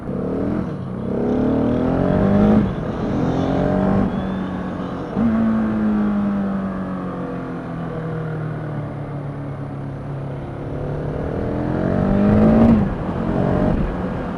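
A 2016 Husqvarna 701 Supermoto single-cylinder engine drones steadily while riding, with throttle blips and revs rising and falling around two and five seconds and again near the end, loud and close with wind noise.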